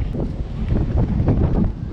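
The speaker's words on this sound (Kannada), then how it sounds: "ನನ್ನ ಡ್ರೆಸ್ಸು ಎಷ್ಟು ಗಾಳಿ ಇದೆ ಅಂದರೆ ಡ್ರೆಸ್ಸು ಎಗರ್ತಾ ಇದೆ" Strong wind buffets the microphone on the deck of a ship out at open sea, a loud continuous roaring gust with flapping, and no speech heard.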